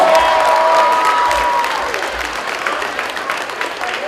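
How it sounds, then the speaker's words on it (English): An audience applauds a fifth-grade student honoured at an academic awards event: a dense wash of clapping that starts full and slowly thins, while a voice is faintly audible underneath. "Let's give him a big round of applause."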